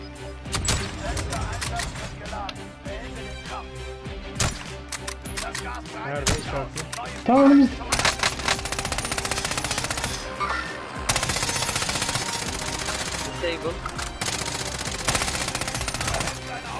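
Automatic gunfire in the Call of Duty Warzone battle royale game, dense bursts running throughout amid busy game sound, with a voice speaking in places.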